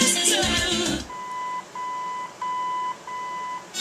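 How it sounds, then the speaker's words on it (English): An original AM radio in a 1965-66 Ford Galaxie gives off a series of four clean, evenly spaced electronic beeps after a brief burst of radio sound, each tone steady and alone against quiet. "It's going to beep, put us into balance mode."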